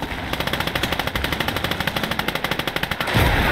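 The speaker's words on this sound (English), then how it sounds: "Oh, the artillery just nailed me!" Rapid automatic gunfire bursts in a rhythmic string of loud, evenly spaced shots during a Gates of Hell: Ostfront eastern front battle, ending in a heavier rumbling blast.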